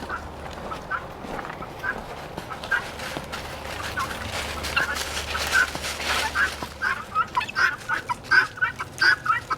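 Chickens and other fowl cluck and chatter close by in a continuing jumble of short calls that grows denser and more rhythmic toward the end, over a low background hum.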